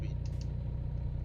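In American Truck Simulator, a Kenworth W900 with 700 horsepower and a 13-speed gearbox holds a constant low engine rumble beneath a voice.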